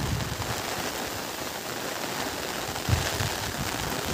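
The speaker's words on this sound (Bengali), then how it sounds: "এখানে দেখুন প্রচুর বৃষ্টি হচ্ছে।" Heavy monsoon rain pours down in a rural Sundarbans village setting, a steady dense hiss that stays broad and constant throughout, with a brief thump near the end and no voices.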